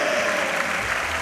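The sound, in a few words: crowd applauding at a women's bouldering final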